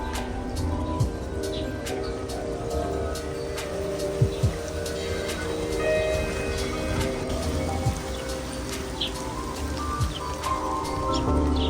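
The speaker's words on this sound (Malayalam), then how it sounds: "നല്ല സൂപ്പർ മഴ പെയ്തു കിട്ടാ" Rain falls steadily in a light patter in a rose garden at Hamilton Lake, with occasional louder drips landing nearby and faint bird chirps in the background.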